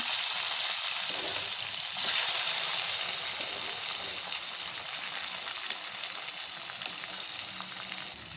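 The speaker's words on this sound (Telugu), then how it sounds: "ఇలా ఈ పీసెస్ను కూడా మనం లో ఫ్లేమ్లోనే పెట్టేసుకొని ఆయిల్లో అయితే కాసేపు వేగనివ్వాలి అండి." Pieces of liver fry in oil over a low flame, giving a steady, close, continuous sizzle with a faint bubbling edge and no voices.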